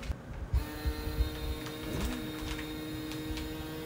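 A Boman vacuum sealer pumps air out of a bag of fruit, its motor settling into a steady, close whirring drone after a few soft handling knocks.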